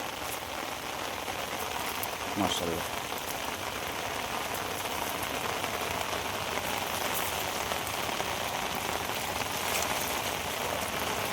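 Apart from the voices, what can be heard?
heavy rain falling outdoors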